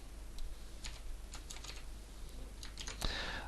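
Code typed on a computer keyboard while writing inline CSS styles, heard as a quiet, close run of light key clicks in short bursts with a slightly louder tap near the end, no talking.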